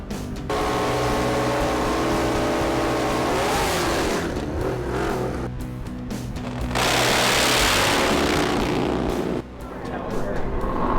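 Drag racing motorcycles at the track rev hard and roar, loud rising and falling engine bursts with a couple of sharp surges, while people talk over the din.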